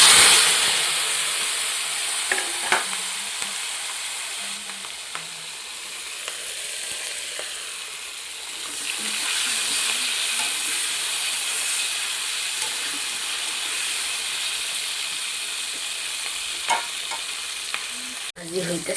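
Pointed gourd (potol) sizzles steadily as it fries in a pan, a constant crackling hiss with occasional stirring scrapes, fairly close and with no talking.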